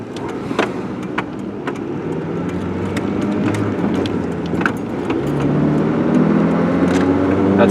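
A Ford Ranger pickup with a new clutch and 117 horsepower pulls at full throttle, its engine drone climbing steadily in pitch and loudness from inside the cab, with light rattles and clicks over it.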